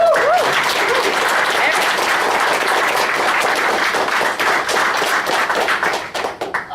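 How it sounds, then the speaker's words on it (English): An audience applauds for a professor before a philosophy lecture, loud dense clapping from many hands held steady for several seconds, then thinning and tapering off at the end. "Please give a round of applause for Professor."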